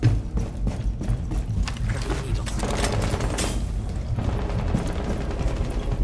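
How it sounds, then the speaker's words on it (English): Sustained light machine gun fire in a Rainbow Six Siege match on the Yacht map, a dense run of rapid shots and mechanical clatter that carries steadily through the whole moment at moderate loudness. "He kept firing. Oh, he's got an LMG"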